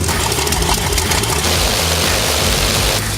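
A recorded aircraft engine for World of Warplanes roars close and loud, a dense steady propeller-engine drone with a low throbbing rumble, running unbroken for the full length with no voices.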